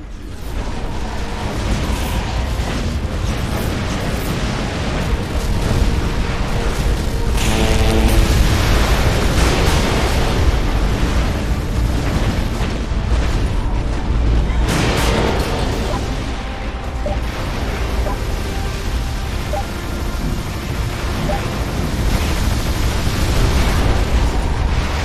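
Missile blasts in the Defense Grid 2 tower-defense game boom repeatedly over a continuous rumbling, mechanical game soundscape, loud and dense with bursts and pops throughout.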